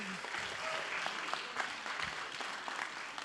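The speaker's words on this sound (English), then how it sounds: "big applause for Evelina" Audience applause for award winner Evelina at a vocational excellence ceremony: steady, moderately distant clapping from a crowd, sustained evenly with scattered louder claps throughout.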